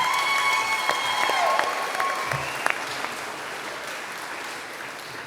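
Applause from an audience at a construction-industry awards event as an award recipient is introduced, a steady moderate wash of clapping with a few sharper claps and faint crowd sounds.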